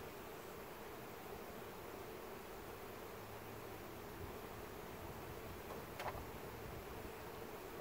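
Bees from a cell starter colony give a steady, low, faint hum of buzzing that runs the whole time as a continuous background drone, with no voices.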